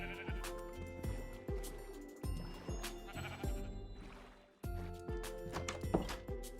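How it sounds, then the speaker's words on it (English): A pink sheep in the Minecraft video game bleats repeatedly, several short wavering calls in quick succession over a steady musical background, close and clear. "We found a pink sheep!"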